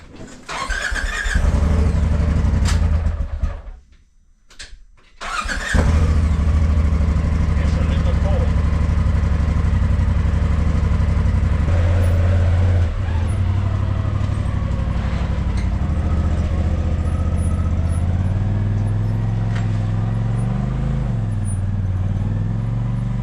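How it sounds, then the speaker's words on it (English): A Polaris RZR side-by-side at a Flagstaff, Arizona campsite starts up after a brief pause and then runs in a loud, close, steady idle with low rumbling tone, occasional slight revs, and a person speaking over it. "let's go get the RZR out"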